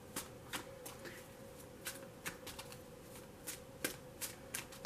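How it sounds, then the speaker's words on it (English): A tarot deck is shuffled briefly, crisp riffling card flicks and soft slaps repeating in quick irregular bursts, close and quiet, with no talking. "so I'm only going to shuffle it for a moment."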